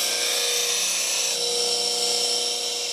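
Bench grinder sharpening a woodturning tool, grinding away metal at a corner: a steady, loud, high-pitched whine of the wheel against steel, continuous and close throughout.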